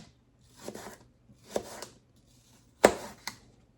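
A knife chops through an apple on a cutting board in three short bursts of quick, crisp cuts, close by, the last burst the loudest, with no speech.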